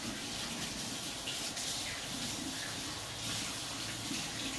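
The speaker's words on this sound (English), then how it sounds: "I'm going to wash my hands." Tap water runs steadily over hands at a sink, a continuous close splashing hiss with small fluctuations and no talking.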